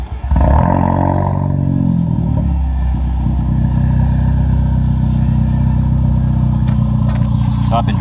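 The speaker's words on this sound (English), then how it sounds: "let me give you a little clip of the sound of the clip of the exhaust." Ford Focus ST with a Cobb tune starting up: a brief crank-like rise settles into a steady, loud turbo engine and exhaust drone with low rumbling harmonics, running alone for several seconds.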